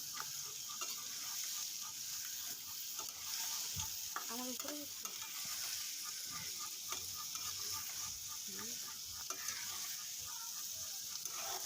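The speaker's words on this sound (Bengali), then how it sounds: "দিয়ে আবার আমি সুন্দরভাবে নেড়ে চেড়ে দিব।" A spoon stirs fish and bilimbi curry with potatoes in a pan over medium heat. Soft scraping and clinking sit over a low, constant sizzle, all fairly faint.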